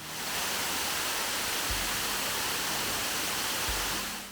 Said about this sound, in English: we have a very picturesque waterfall just beside what a lot of people remark as being this beautiful natural setting